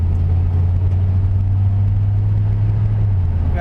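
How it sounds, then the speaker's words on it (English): A 1992 Chevrolet Silverado pickup cruises with a steady, loud low engine drone and road rumble that holds nearly constant, with no clear gear changes, and no one talking. "We're going to make sure the RPMs shift 4 times."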